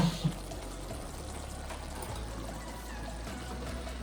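Dry fusilli pasta slipping into a pot of water on a home stove, a soft watery pour and trickle under a steady low background hum, with a couple of faint clinks at the start.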